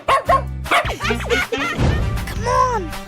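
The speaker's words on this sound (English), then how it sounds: "Dog." A cartoon dog barks repeatedly in a 3D animal slide video game, several loud close woofs in quick succession, followed by playful game noises.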